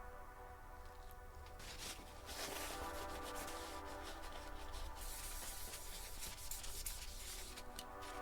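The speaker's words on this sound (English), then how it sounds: "we're just going to put some more isopropyl alcohol down and then wipe up all the remaining residue" Cloth wiping leftover residue with isopropyl alcohol inside a 2019 16-inch MacBook Pro A2141 during a battery replacement, soft continuous close rubbing and scrubbing strokes, quiet and unbroken by speech.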